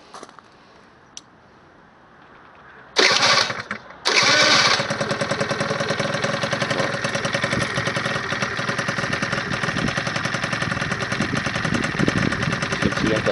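A small engine is started close by, about three seconds in. It catches, cuts out briefly, then fires again and settles into a loud, steady, even-running idle with no talk.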